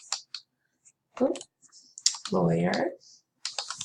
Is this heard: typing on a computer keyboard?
yes